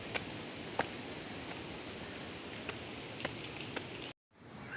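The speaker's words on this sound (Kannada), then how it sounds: "ಮಳೆ ಬರ್ತಿದೆ ಇಲ್ಲಿ." Rain falls steadily around a lighthouse in Kerala, a soft, even hiss with a few louder drops ticking nearby before the sound briefly cuts out.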